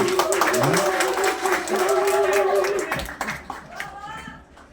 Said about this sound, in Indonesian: beri tepukan bagi pengantin lelaki Brian.